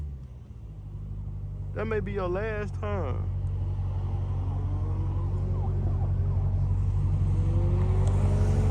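A Dodge SRT Hellcat with a supercharger, its engine rumble building steadily louder and closer, with a brief wailing siren-like tone early on and someone talking over it.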